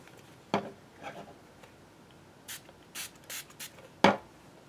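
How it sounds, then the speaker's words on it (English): Several short hissing spray bursts of Flitz tactical matte finish cleaner from a trigger bottle onto a steel handle, close up, with a few soft rubbing taps in between; no talking. "so I'm going to spray that as well."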